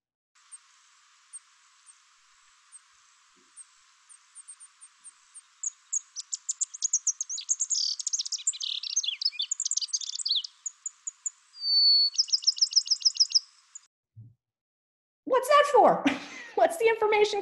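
A thin, high Bachman's sparrow warbled song of rapid varied warbles and trills, faint at first and building, followed by a burst of louder chirping.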